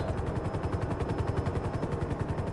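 A heavy machine gun fires in GTA Online, a fast unbroken burst of rapid shots lasting the whole moment, loud and dense.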